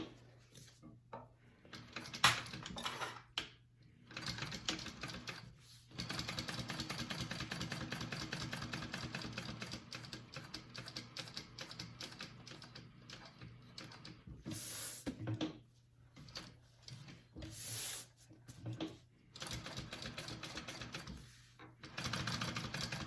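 A sewing machine stitching a pocket onto a bag lining, running in long steady bursts of rapid mechanical whirring, separated by brief pauses and handling clicks, close and moderately loud.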